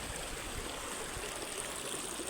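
River water flows in a steady, broad rushing wash that holds constant at moderate loudness throughout, with no voices.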